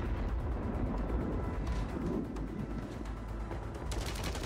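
Gunfire from the video game Warzone on Rebirth Island rattles along continuously in a dense, busy stretch of rapid shots, with a brighter burst near the end.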